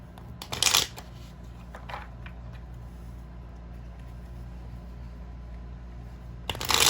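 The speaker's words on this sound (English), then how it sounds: "going to shuffle one more time." Oracle cards are shuffled in two quick riffling bursts, one near the start and one at the end, with faint handling sounds between over a low hum.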